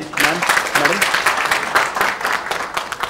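Audience applause at a national award ceremony for the Punjabi novel Baaki Safa 5, honouring its author and translator; steady dense clapping runs throughout at moderate loudness, with voices mixed in.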